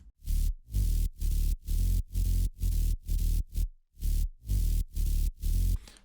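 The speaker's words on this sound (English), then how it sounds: "At first there is the sub bass, sounding like this." Bass house sub bass from a Serum synth built on two sine waves and white noise, sounding as deep, loud pulses in a steady rhythm of about a dozen hits with brief gaps between them, alone without talk.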